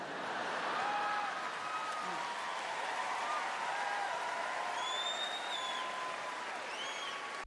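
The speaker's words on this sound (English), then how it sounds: "Like, why is there applause?" A studio audience at a daytime talk show breaks into sustained, dense applause, steady and loud throughout, with scattered cheers and whoops rising above the clapping.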